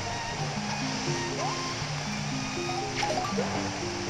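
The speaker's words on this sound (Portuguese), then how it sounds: "liberou uma cachoeira ali" A waterfall opens in the Zelda Tri Force Heroes video game, a steady, loud rushing wash of water that fills the clip under layered game music.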